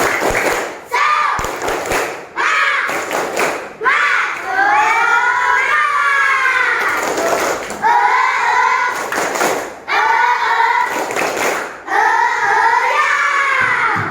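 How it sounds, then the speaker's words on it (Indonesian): A classroom group of children does a tepuk semangat spirit clap, sharp hand claps falling in a brisk rhythmic pattern between loud chanted voices, repeated in several rounds. "Baik, tepuk semangat."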